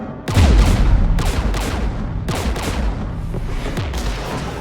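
Incoming gunfire in Mass Effect 3 fighting Geth: a loud opening blast followed by repeated sharp shots and booming impacts in irregular bursts, dense and close, with no speech.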